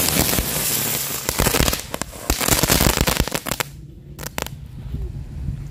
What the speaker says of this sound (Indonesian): Selanjutnya kita nyalakan mercon bunga teratai. Ini bisa berputar seperti gangsing teman-teman.